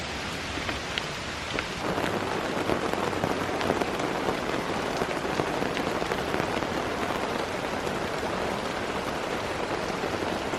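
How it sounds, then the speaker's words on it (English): Steady rain falls through the woods at a bushcraft treehouse build site, a dense even patter on leaves and surfaces that holds constant throughout with no voices. "the rain's easing up"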